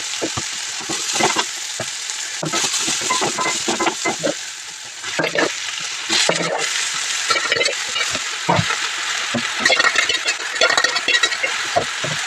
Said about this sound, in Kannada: ಇವಾಗ ಬೇಯಿಸ್ಕೊಂಡಿರೋ ಸೊಪ್ಪನ್ನ ಹಾಕಿ ಫ್ರೈ ಮಾಡ್ತೀನಿ